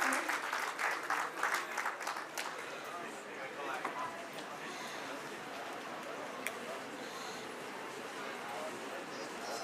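Audience clapping to welcome a guest at an Indian academic function, strong at first then thinning into scattered claps under a murmur of voices.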